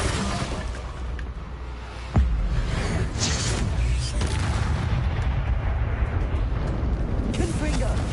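Confringo spell blasts in Hogwarts Legacy on PS4 land as a sudden loud boom, followed by a dense, continuous roar of rumbling, crackling blast noise that carries on to the end.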